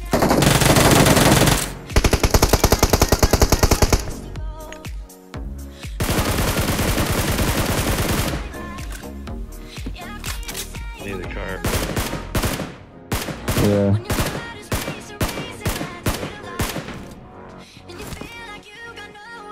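Automatic machine-gun fire from the PUBG Mobile battle royale game, Erangel map in a Frost Festival event, with loud sustained bursts and rapid fusillades, then scattered shorter volleys and single shots nearby.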